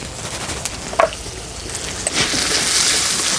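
Peanuts, curry leaves and spices frying in oil, a soft continuous sizzle with a few light stirring taps, growing slightly louder toward the end.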